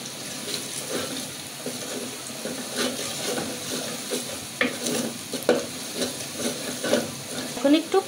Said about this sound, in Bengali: আর আদা রসুনটা সুন্দর করে ভাজা ভাজা হয়ে গেছে পেঁয়াজের সাথে